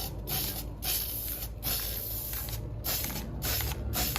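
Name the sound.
spray painting styrofoam gold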